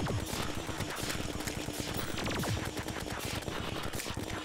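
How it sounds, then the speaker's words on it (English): Rapid laser fire from Mothron in Terraria during a solar eclipse, a dense stream of sharp zapping shots rattling without pause over busy game noise. "Is Mothron shooting lasers?"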